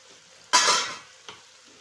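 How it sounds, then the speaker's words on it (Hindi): Chicken cooks in a pan on a stovetop as a short burst of sizzling flares up and fades, followed by a brief second hiss, fairly quiet with no talking. "ये चिकन को पकते हुए 1 मिनट हो गया है।"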